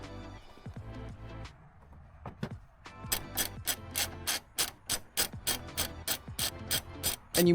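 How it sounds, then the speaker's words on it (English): A hand ratchet clicks up close in quick, repeated bursts while bolts are loosened to remove the front end of a 2004 Nissan Maxima parts car, with a few slower turns before a steady run of rapid pawl clicks. "I'm only using hand tools to take this off rather than using an impact gun"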